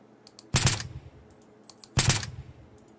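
Two sharp bursts of gunfire from a video game robbery stealth level, each a quick rattling volley about a second and a half apart, with soft clicks between them and no talk.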